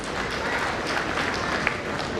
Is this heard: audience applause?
yes